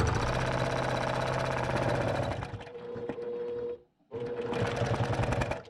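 A sewing machine with an open toe foot stitching at a fast steady whir and rapid needle chatter, briefly slowing and stopping, then starting again close up.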